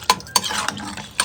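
A spoon stirs water into a pot of homemade chicken curry, giving a few sharp scraping clinks against the pan with soft wet sloshing between them.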